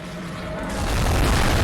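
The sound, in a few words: cannon firing a cannonball in video game Bloodborne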